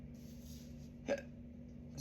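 One short, soft hiccup from a person, close and fairly quiet against a low steady background hum, with a faint second catch near the end.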